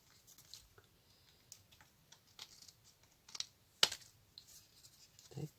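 Scissors cutting away excess paper while crafting happy mail, a run of faint, sparse snips and small rustles, quiet and close, with one sharper clip near the middle.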